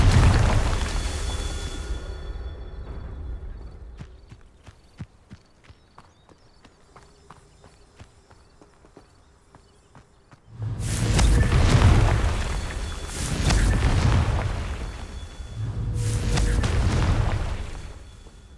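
A Confringo fire spell explodes in the video game Hogwarts Legacy, giving a loud, broad booming burst followed by two more rumbling blasts in quick succession after a quieter stretch of faint ticking.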